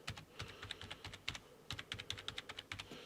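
Someone types at a steady, quick rhythm on a value-range office keyboard. The keystrokes are crisp and close, with no voices.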